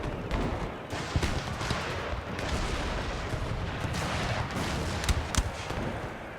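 Continuous musket volleys and booming cannon fire in the Empire Total War battle, French Guiana, a dense steady roar of overlapping shots with sharper loud cracks near the end.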